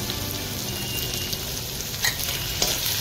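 Potatoes fry with ginger and garlic paste for an Assamese fish curry, giving a steady, loud, close sizzle with a couple of faint clinks of stirring.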